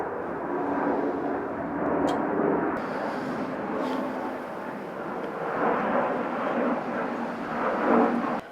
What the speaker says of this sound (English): There's a jet.